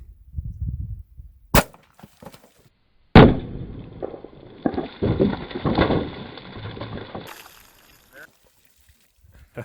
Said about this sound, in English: Alrighty, second shot with the 255 grain Hardcast